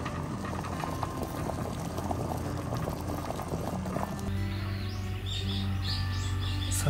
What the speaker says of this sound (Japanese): すごい沸騰してきた。